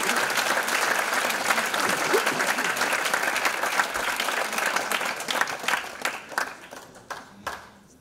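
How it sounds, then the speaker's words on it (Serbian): An audience at a secondary school's tenth-anniversary ceremony applauds loudly and continuously for several seconds, then the clapping thins into scattered claps. "I molim vas da jednim velikim aplauzom pozdravite Milicu Janko."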